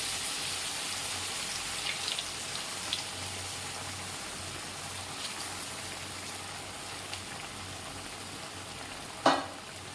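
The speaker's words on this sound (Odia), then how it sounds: "ତେଲ ତାତିଗଲାଣି, ପିଠା ଆମେ ଛାଣିବା।" Pitha batter frying in hot oil gives a steady soft sizzle and bubbling throughout, with faint stirring and one sharp clink near the end, no voices.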